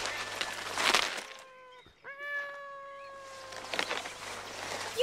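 A boy imitates a cat's mewing from undergrowth, several drawn-out, whiny meows in a row with a brief break between, heard over faint outdoor ambience.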